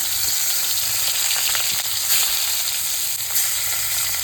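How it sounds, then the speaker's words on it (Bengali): Bhola fish frying in hot oil, a steady close sizzle with faint crackles and occasional stirring, no voices. "এই যে বাকি মাছগুলো আমি এইভাবে ভাজা নিতেছি"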